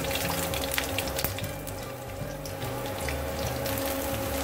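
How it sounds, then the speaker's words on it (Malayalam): Chopped shallots sauté in hot oil with spluttered mustard seeds for a Kollam-style coconut fish curry, giving a loud continuous hiss and crackle with a faint hum underneath. "ഇതൊന്ന് വഴറ്റി കൊടുക്കാം."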